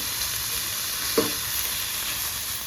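Spring roll filling sizzles steadily in a frying pan as it is stirred, a continuous close hiss with one brief scraping knock of the utensil.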